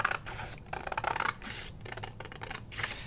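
Scissors trimming junk-mail paper for a handmade wallet folio, a run of close, dry snipping and rustling cuts in quick irregular bursts, with brief pauses between strokes.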